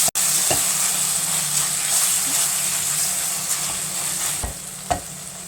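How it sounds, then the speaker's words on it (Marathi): Ginger-garlic paste sautéing in a pan with onion and tomato for an egg curry, a steady close sizzle with occasional spoon scrapes and stirring clicks throughout. "आलं लसणाची पेस्ट घालूया एक चमचा परतून घेऊया"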